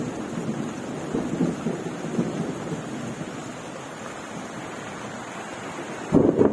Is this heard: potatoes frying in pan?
no